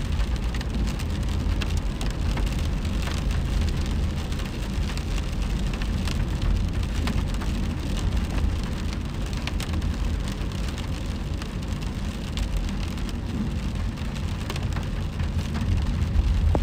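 Steady rain pouring down on surfaces during a spring cherry-blossom outing, a dense, constant hiss that stays loud and unbroken throughout with no talking.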